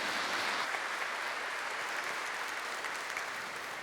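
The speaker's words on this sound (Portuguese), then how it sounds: "Uma salva de palmas mais uma vez." A congregation at a Catholic homily gives a round of applause, a broad, even wash of many hands clapping at a distance, sustained throughout and easing off slightly at the close.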